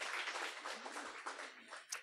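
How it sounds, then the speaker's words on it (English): An audience applauds a candidate at a political event, a short burst of moderately faint clapping that fades slightly toward the end. "Can we get a round of applause for Ryan?"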